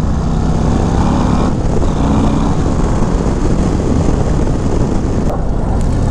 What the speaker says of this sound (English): Look at these F-22s flying over the track while we're out here riding.